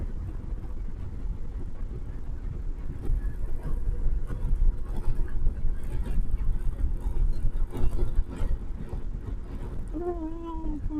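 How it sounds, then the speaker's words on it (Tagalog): Motorcycle engine droning steadily through a ride near Matabungkay, a loud continuous low rumble mixed with wind buffeting, a voice briefly rising near the end. "Ingay ng motor natin"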